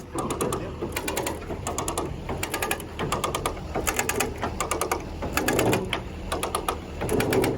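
A hand crank ratchets rapidly as a jack lifts a 1976 shortbed squarebody truck, with quick clicking bursts in an irregular rhythm, close and fairly quiet.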